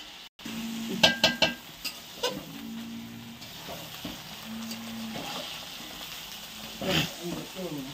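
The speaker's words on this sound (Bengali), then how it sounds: "চালে ডালে এবার ভালো করে কষিয়ে নেওয়া হবে।" Rice and lentils being sautéed in a pan for khichuri: soft sizzling with bursts of scraping and stirring from a ladle, a few sharper clatters, against a faint background hiss.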